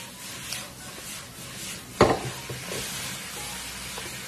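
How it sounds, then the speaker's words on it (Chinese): Bean sprouts and chives stir-frying in a wok over high heat, a steady close sizzle with scraping stir strokes and one sharp clatter of the spatula midway. "然后把韭菜段给全部加进来，继续给它大火翻炒"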